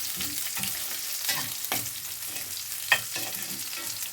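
Garlic sautéing in a pan of hot oil for a fenugreek coconut-milk curry, a close steady sizzle broken by scraping stirs and one sharp clink of a utensil, with no talk.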